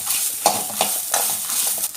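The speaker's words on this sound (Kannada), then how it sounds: "ಒಂಚೂರು ಕಾಲು ನೀರುಳ್ಳಿ ಬಕ್ಕೊಂತ ಕರಿಬೇಪಾಡ್ದು ಅವೆಲ್ಲ ಫ್ರೈ ಮಾಡ್ಬೇಕು." Onion, coriander and curry leaves fry in a pan for a fish curry, a steady close sizzle with a few rhythmic scraping strokes of a spoon.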